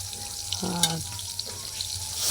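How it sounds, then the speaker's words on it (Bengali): Fish frying in a pan over a wood fire, a faint low sizzle with a brief splash and a light clink partway through. "এরপরে দেখছেন বন্ধুরা, মাছগুলো ভেজে নিচ্ছি"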